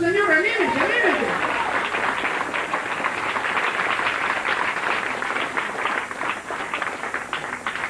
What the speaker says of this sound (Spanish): Denle un aplauso al Señor, anímense, anímense.